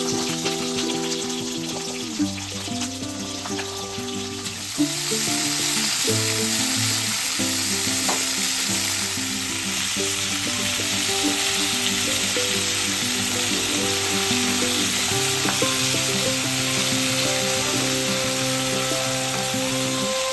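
Cauliflower curry sizzles and fries steadily in a pan, a loud continuous crackle with a stirring scrape and a louder surge partway through, with no talking.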